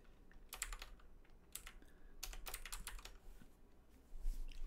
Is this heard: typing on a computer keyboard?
yes